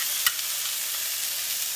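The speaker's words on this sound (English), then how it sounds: "You don't want to put the vegetables on the pan until it's nice and hot. And it should begin to sizzle." Grilled vegetables sizzle in a hot pan, a steady bright hiss with a brief stir clatter at the start, close and without talk.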